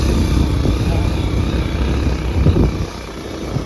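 A motorcycle rides over a rough, uneven road, its engine rumbling steadily and close throughout, with jolts and bumps briefly swelling the noise before it eases slightly near the end.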